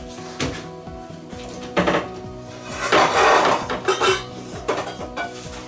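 A frying pan clanks onto a kitchen stove set to medium heat amid several metallic knocks and scrapes of pans and utensils, with a louder rattling burst in the middle and brief clatters after, close by and without speech.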